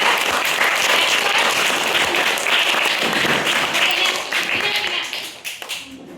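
A classroom of fourth-grade pupils claps together in a bilingual school maths lesson, a dense, loud burst of many small hands that runs steadily for several seconds before thinning out toward the end.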